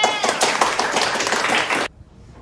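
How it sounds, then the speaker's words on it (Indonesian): An audience claps for a student named Farel at a teachers' innovation awards event, a dense burst of close applause that cuts off abruptly near the end, leaving near silence. "tepuk tangan untuk Farel"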